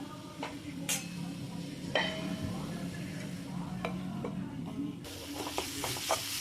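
A spoon scrapes and knocks through agathi flower thoran in a pan, giving a soft, irregular stirring over a faint sizzle, with a few sharper clinks. Near and fairly quiet, with no voices.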